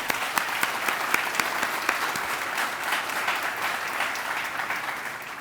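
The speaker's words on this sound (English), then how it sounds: "Round of applause for our first responders" Audience at a 2025 town State of the Town address applauds first responders, a steady wash of many hands clapping with sharper individual claps standing out, sustained for several seconds and tapering slightly at the end.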